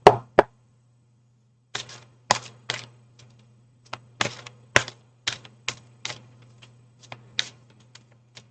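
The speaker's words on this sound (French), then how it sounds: "je vais tirer une autre carte tout de suite." Tarot cards being shuffled and drawn from a deck at a table, a run of crisp, close papery flicks and soft taps in irregular bursts over a low steady hum, with no talking.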